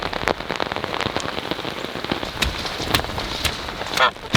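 Steady rain pours down outdoors on a farm, a dense continuous patter of drops striking surfaces with scattered louder splats, fairly close and unbroken throughout.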